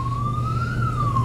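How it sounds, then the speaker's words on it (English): An ambulance siren holds one steady, loud wailing tone that rises slowly and falls again over a low engine rumble, with no voices. "if an ambulance or a siren goes through right in the middle of a very serious conversation"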